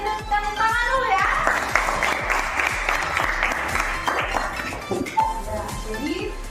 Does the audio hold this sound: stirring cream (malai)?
no